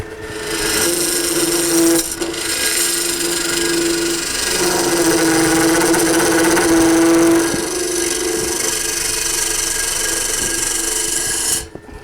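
A wood-turning lathe hollows the inside of a wooden bowl, giving a steady scraping, humming cut with a sustained whining tone that pauses briefly near the start and drops off at the end.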